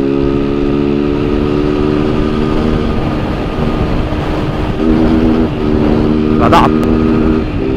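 Honda Fan 160 motorcycle accelerating on a highway, a steady buzzing single-cylinder engine note with strong harmonics and wind rush, rising slightly in pitch, with a brief word spoken.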